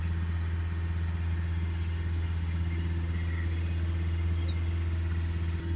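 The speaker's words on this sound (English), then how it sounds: "So now we just hold the revs up for around about a couple of minutes or so." An Audi TT 2.0 TDI diesel engine hums at a steady, elevated rev during DPF soot cleaning, a constant droning rumble with no talking, close and unchanging throughout.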